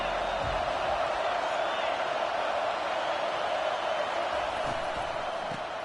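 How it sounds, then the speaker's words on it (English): Stadium crowd roar from a college football video game, a steady, loud wall of cheering that fills the whole stretch without pause. "This crowd bringing an ear-splitting welcome to their visitors"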